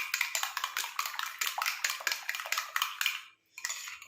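Homemade cream being mixed with lemon juice in a bowl, a steady run of close, rapid spoon-on-bowl scraping and clinking strokes with a brief pause near the end, no voices.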